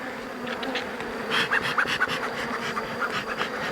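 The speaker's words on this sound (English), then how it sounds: "this hive's still a little hot. I've got one stinging me on the leg right now." Honeybees from a hot, defensive hive buzz loudly and close in a steady drone, with individual bees whining past near the ear.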